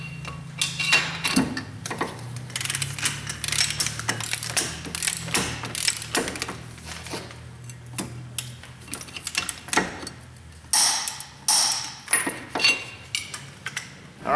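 Ratchet ratcheting and clicking mechanically while torquing the front wheel hub bolts on a Dodge Stratus to 105 foot-pounds, in repeated close bursts of clicks and metallic clatter.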